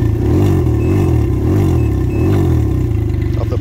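A Can-Am Ryker three-wheeler idling through a Silber tuneable exhaust on its quiet setting: a steady, close, deep rumble with a regular low pulse and a light mechanical clatter, held level without revving.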